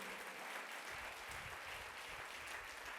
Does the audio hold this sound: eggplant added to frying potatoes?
no